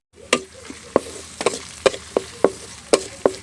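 Chopped onion for noodles stirred and frying in a pan, a steady run of sharp scraping strokes roughly every half second over a faint sizzle, close and without voices.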